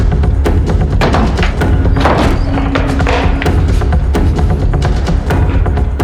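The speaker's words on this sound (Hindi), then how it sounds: "दरवाजा बंद है। तोड़ो से।" A locked door is forced in a tense indoor scene, a dense barrage of heavy thuds and bangs hammering rapidly and loudly against the wood throughout, with a constant rumbling din behind.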